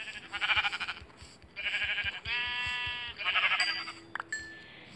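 Sheep in the Minecraft video game bleating several times in quick succession, close and fairly loud, with short wavering cries separated by brief pauses and no talk over them.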